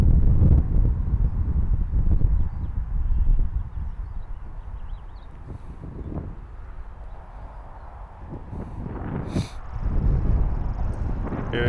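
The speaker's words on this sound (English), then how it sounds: "A little wind." Steady wind gusting across an open golf course at Diamond Bar, a broad low rumble of wind buffeting the microphone that swells and eases throughout, with no other clear sounds.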